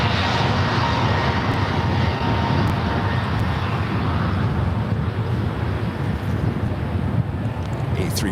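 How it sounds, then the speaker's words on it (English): An Airbus A321neo airliner at San Francisco International Airport gives off a loud, continuous engine roar mixed with gusty wind buffeting the microphone, unbroken across the whole stretch. "A321 Neo showing off."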